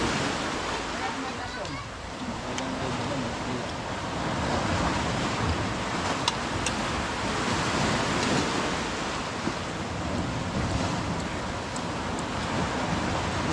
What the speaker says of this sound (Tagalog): Naku, dyan pa sa may alon.